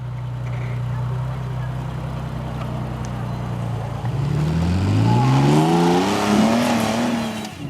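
A brand new off-road 4x4 competition vehicle climbs an incline at a Maxxis 4XTR event in Parys, its engine droning steadily and then revving higher and rising in pitch, loud and close throughout.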